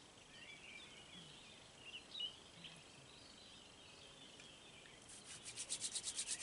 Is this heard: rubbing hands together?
yes